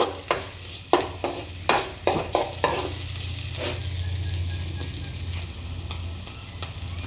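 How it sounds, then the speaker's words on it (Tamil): Mustard, cumin, pepper and fennel seeds tempering in hot sesame oil: sharp close pops and crackles at first, then a loud, steady sizzle. "நல்லெண்ணெய் ஊற்றி கடுகு தாளிச்சிட்டு சீரகம் மிளகு சோம்பு தாளிச்சிட்டு"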